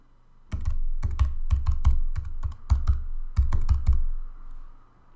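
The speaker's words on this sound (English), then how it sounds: "So you just type in the domain in this box here." Quick bursts of keystrokes on a computer keyboard as a domain name is typed, close and crisp, in two clusters separated by a short pause, with no talk.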